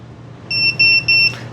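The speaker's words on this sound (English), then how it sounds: "then you will automatically have the beeping, similar to this" A WingSmith drone beeper sounds three sharp, high-pitched electronic beeps in quick succession, close and loud over a faint low background hum.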